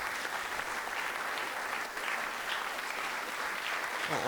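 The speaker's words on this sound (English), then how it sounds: "Applause for all the entries." Sustained applause from a demoparty audience at a prizegiving for new school music entries, a dense steady wash of clapping that stays loud and even throughout.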